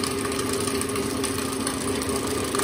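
An electric mixer whirs steadily for a few seconds while mixing marble cake batter with vanilla, holding a constant, fairly loud hum without breaks and with no talking.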